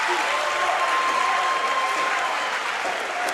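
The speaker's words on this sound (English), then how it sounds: "here comes the Clay County crowd" A loud, steady roar of applause and cheering from the Clay County crowd fills a high school boys' district championship basketball game gym, dense and sustained throughout with no break.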